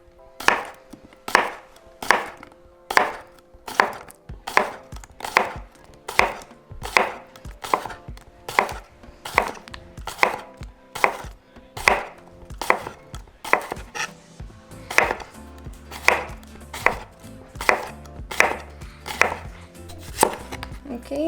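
A knife chops serrano chiles into tiny slices on a cutting board, a steady run of about thirty crisp, evenly spaced strikes, close and clear, with a lower board thud added toward the end.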